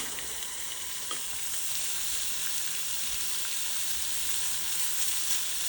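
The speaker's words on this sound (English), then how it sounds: "So let's flip these shrimp over." Shrimp sizzling and crackling in a hot pan with Cajun blackening seasoning, a steady close frying hiss with small pops as they are turned over.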